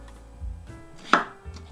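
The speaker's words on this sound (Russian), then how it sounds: "Берем картошину, разрезаем на две части. И эту часть еще на две." A knife cuts through a potato on a board in the kitchen, giving one sharp, close chop and a few soft thuds around it.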